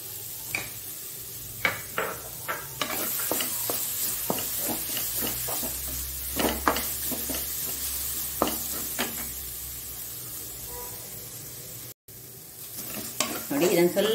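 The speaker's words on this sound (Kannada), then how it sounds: "ಈಗ ಇದೇ ಬಾಣಲೆಯಲ್ಲಿ ನಾವು ತೆಂಗಿನ ತುರಿಯನ್ನು ಸ್ವಲ್ಪ ಹುರಿದುಕೊಳ್ಳೋಣ." Grated fresh coconut roasting in a pan, with a soft continuous sizzle and repeated scraping strokes of a spoon against the pan, close up and with almost no talk.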